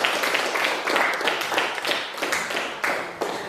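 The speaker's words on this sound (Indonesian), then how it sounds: "Kita kasih aplaus untuk kelompok 3." A classroom group claps for the third team, a short burst of scattered, uneven clapping from a small crowd, close and moderately loud, fading toward the end.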